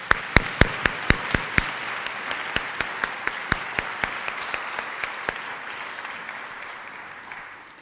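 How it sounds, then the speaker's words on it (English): Applause for students and faculty at a university awards ceremony: a handful of sharp, distinct claps ring out close by over softer crowd clapping that gradually thins and fades. "let's give one last round of applause for the students and their faculty"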